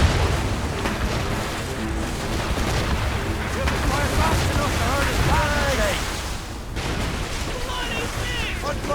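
Ship cannons fire in the naval combat of Assassin's Creed Rogue, with heavy booms and rumbling blasts layered over crew shouts and battle noise, dense and continuous with sharper cracks near the end.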